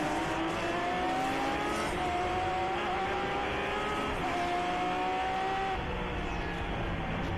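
Race cars at speed on Virginia International Raceway during a classic and muscle-car event, engines holding a steady loud drone with rising and falling tones as cars pass, continuous through the whole stretch.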